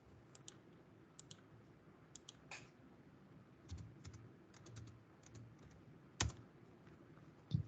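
Someone types a transaction code on a computer keyboard: scattered, quiet key clicks in small bursts, with a couple of louder keystrokes near the end, in an otherwise quiet room.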